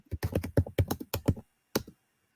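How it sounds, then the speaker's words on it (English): Typing on a computer keyboard, a quick run of crisp, close key clicks in bursts followed by a short pause and one final keystroke, heard alone without speech. "I just typed it in"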